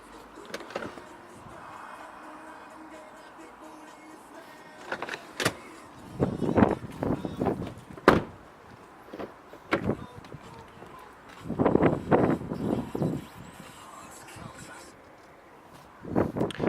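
Electric windows on an Audi Q7 3.0 TDI S Line Plus whirring up and down in several short motor bursts, close by inside the car, with someone talking between the runs.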